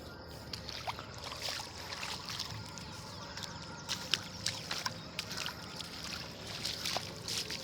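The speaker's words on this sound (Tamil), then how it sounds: "வயல் ஃபுல்லாக தண்ணி தான் பாருங்கள் தண்ணி எப்படி போகுது பாருங்கள்" Continuous rush of rainwater flowing across a flooded farm field after overnight rain, with light trickling and splashing, steady and moderately loud, no voices.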